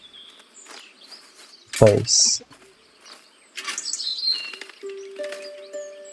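A robin in Botany Manor gives several bright chirps and a short warbling phrase amid a thump and rustle, fairly close, with a person speaking briefly over it.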